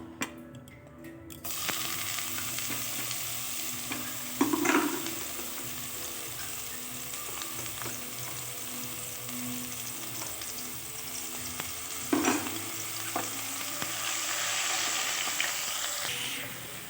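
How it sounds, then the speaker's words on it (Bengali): Onion paste fries in oil for a Bengali tengra fish curry, giving a constant close sizzle broken by two sharper bursts as the paste is stirred or shifted in the pan. "তেলের মধ্যে পেঁয়াজ বাটাটাকে দিয়ে দেবো"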